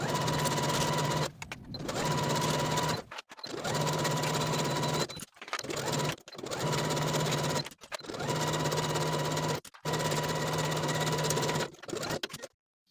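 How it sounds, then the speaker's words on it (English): A sewing machine runs a narrow zigzag stitch around a cardigan edge in loud, steady bursts of a few seconds each, separated by short pauses, with no voices. "we're going to sew all the way around with a narrow zigzag stitch"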